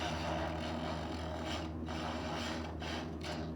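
An oscillating multi tool run at low speed cuts grout out of tile joints, giving a steady, close, rasping grind with a hum underneath, and a few brief dips as the blade shifts.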